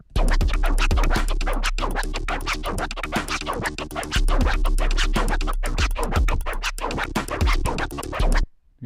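Turntable Autobahn scratch cycling through five sounds, rapid back-and-forth record scratches in a tight repeating rhythm over a deep steady bass tone, loud and close with no voices.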